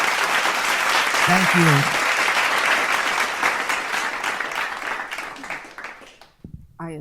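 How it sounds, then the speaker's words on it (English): A crowd claps loudly and continuously at a survivors' storytelling event, with a brief voice breaking through early on; the applause fades toward the end as someone speaks a few words. "Can we please give her applause, please?"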